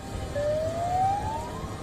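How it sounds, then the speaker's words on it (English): A tsunami warning siren in Japan wails with a slowly rising tone over a dense rumble of traffic, steady and moderately loud, with no one speaking. "Sirens blared."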